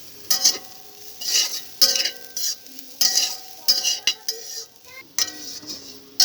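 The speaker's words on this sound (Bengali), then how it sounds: "এবারে কোরানো নারকেলগুলোকে আমি একটু ভেজে নেব" Grated coconut frying in a pan, soft sizzling broken by repeated scraping and clinking of a spoon stirring against the metal.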